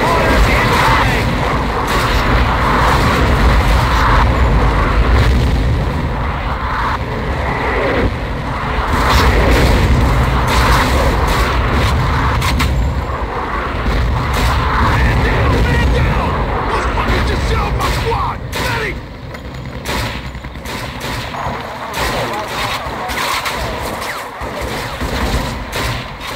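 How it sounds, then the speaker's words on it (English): Mortar strike in the Vietnam War shooter Shellshock: Nam '67, with loud, dense rolling booms and thuds piling up almost continuously, heavy battle rumble easing slightly toward the end. "Mortar strike. Bravo 2, get the hell out of there! Mortar's incoming!"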